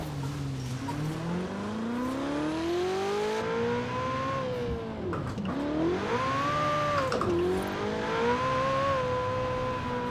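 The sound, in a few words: Ferrari 488 Pista engine with turbo whine, Forza Horizon 4 video game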